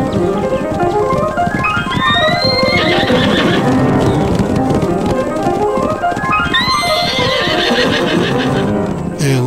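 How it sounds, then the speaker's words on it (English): Horses whinny loudly twice amid a steady, busy rumble of hooves, with the neighs rising high and shrill over the constant galloping. "We loved watching Dash the Dashhound round up those wild horses."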